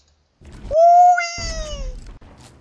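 A cat meows once, a clear, drawn-out rising and falling call close to the microphone, with faint room noise and soft thumps around it.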